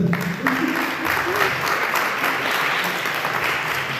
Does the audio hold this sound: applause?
yes